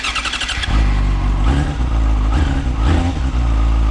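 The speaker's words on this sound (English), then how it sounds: "let's give the starter button a poke and see what happens" A Yamaha FZ6 motorcycle engine cranks briefly on the starter, then catches and settles into a steady, loud, close idle with slight revving, with no talking.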